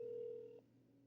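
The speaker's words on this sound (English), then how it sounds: "See how that one's still ringing?" An outgoing call on a house landline phone carries a steady ringback tone that holds for about half a second and then cuts off, leaving a faint low hum with no talking.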